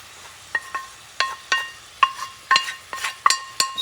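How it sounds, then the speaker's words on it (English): Squid being added and turned in hot oil in a pan for Puerto Rican rice with calamari, heard as a series of bright metallic clinks and scrapes at a steady, quickening rhythm over a faint background sizzle. "you're going to add your squid now"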